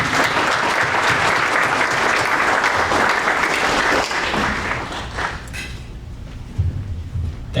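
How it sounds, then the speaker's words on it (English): A dense, loud wave of applause fills the room at a small business banquet, carrying steadily for several seconds before thinning out into scattered claps and noise. "Please join me in giving them a round of applause as well"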